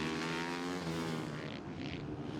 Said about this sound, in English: Just hear the riders just feathering the throttle there.